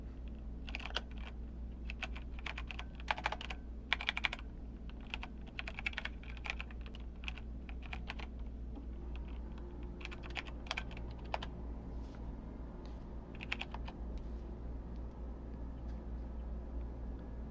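Rapid, irregular keystrokes on a computer keyboard while typing terminal commands, coming in quick bursts with brief pauses, fairly close and quiet, with no talking.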